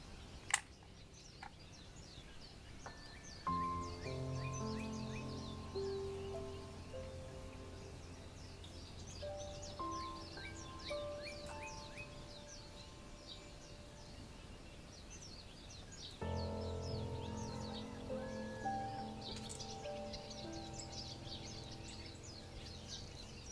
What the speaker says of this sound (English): Summer, warm sun, and the cheerful singing of birds.